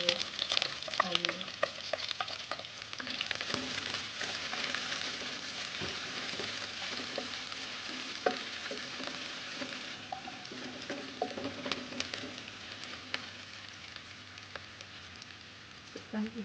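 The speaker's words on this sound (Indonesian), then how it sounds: "Masukkan bawang goreng dan tumis sampai cair." Fried shallots stir-fried in oil in a pan for spicy fried rice vermicelli give a steady, close sizzle and crackle throughout, with occasional spatula scrapes and light clatter.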